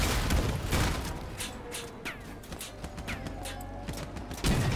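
Machine guns rattle in Crossout vehicle combat, a dense stream of mid-distance shots with occasional heavier booms, continuing steadily without talk.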